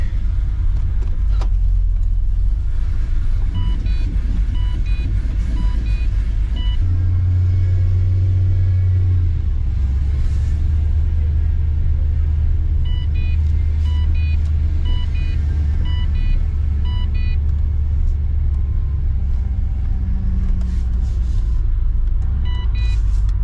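Supercharged LSA V8 swapped into a GTR idling as it warms up, a steady loud low rumble throughout with a slight shift in tone partway, plus faint intermittent electronic beeps.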